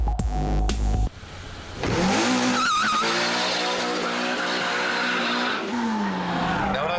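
A Renault Clio 197 hot hatch lapping the Cadwell Park circuit, its engine revving hard and rising in pitch while the tyres squeal through corners, loud and close, continuous after a short burst of other sound at the start.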